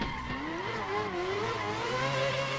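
A drift car in the racing game Assetto Corsa revs hard with a raspy, rising and falling engine note and tire squeal, loud and continuous throughout with no talking.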